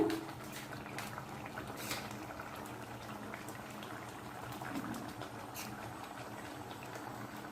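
Spinach paneer gravy boils in a pan, producing soft, continuous bubbling and popping heard close but quiet, with no talking.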